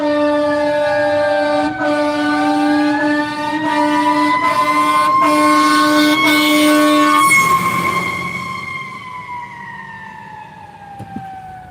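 Fire truck air horn blaring in long sustained blasts right behind a car on a street, loud and close, tapering off after several seconds into quieter road noise.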